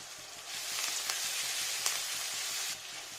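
Ginger paste fries in a pan alongside small fresh pond fish for a fish jhol, giving a bright, close sizzle that swells and holds steady for a few seconds before easing off, with no voices.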